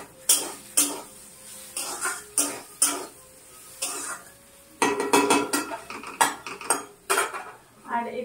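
Metal utensils clink and scrape against a pan while potatoes are fried at home, with a series of sharp, close taps and clatters in irregular bursts and a faint cough partway through.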